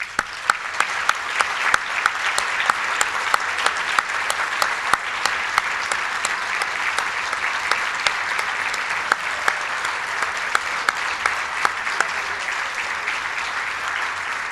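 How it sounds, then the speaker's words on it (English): An audience at a charity breakfast applauds steadily, a dense even clapping from many hands that holds its level for the whole stretch, with no voices over it. "we'd like to thank them with some applause"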